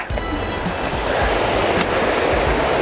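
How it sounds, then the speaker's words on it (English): A river flows beside a hiking trail, its rushing water a steady, dense roar that stays loud and unbroken throughout, heard close up with no talking. "Beautiful river right here."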